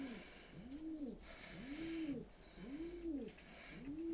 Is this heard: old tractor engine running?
no